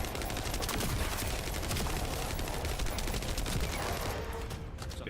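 Rapid SMG fire from the shooter game Delta Force rattles in a dense, continuous stream of shots, loud and close, tapering off briefly near the end.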